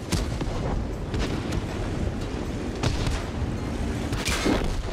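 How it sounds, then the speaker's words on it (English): Airstrike explosions in The 47%: Frontlines, a dense run of heavy booms and artillery-like blasts that rumble continuously and loudly throughout. "Airstrike is ready."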